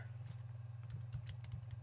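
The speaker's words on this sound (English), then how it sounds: "Sorry, I'm like typing on my side here." Soft, irregular keyboard clicks tapping away at close range over a steady low electrical hum, with no talking.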